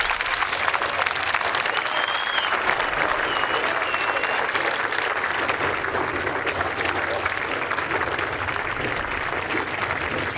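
Record gallery of golf spectators applauding around the 18th green in the final round of the U.S. Women's Open at Lancaster, a dense, steady wash of clapping and crowd noise lasting the whole stretch with no break.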